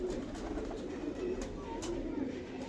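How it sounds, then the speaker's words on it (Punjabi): Pigeons in a loft coo softly and repeatedly in low, rounded murmurs, moderately close, over a steady background hum with a few faint sharp clicks. "ਮੈਂ ਤੁਹਾਨੂੰ ਹੁਣ ਕਬੂਤਰ ਦਿਖਾਉਣਾ ਜਿਹੜੇ ਕਬੂਤਰ ਨਾਲ ਮੈਂ ਬਰੀਡ ਬਣਾਉਣਾ"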